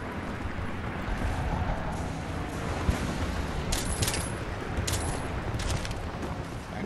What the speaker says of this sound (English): Why are you shooting there?